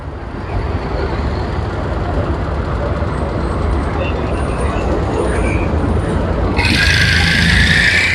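Steady, heavy street traffic roars continuously in Pettah, Colombo, Sri Lanka, the rumble of buses passing close, with a bright hiss rising near the end.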